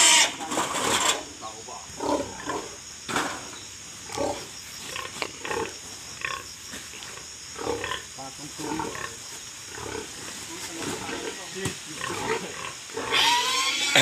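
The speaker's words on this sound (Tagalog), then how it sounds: "ilalabasan natin yung mama pig" A mother pig (sow) on a Filipino farm grunts repeatedly in short, irregular bursts at close range, with people talking around her and other animal noises in the background.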